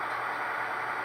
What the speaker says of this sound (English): That's the second engine actually shutting down